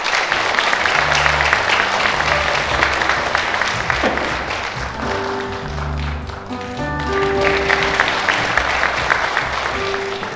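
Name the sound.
audience applause at a taekwondo demonstration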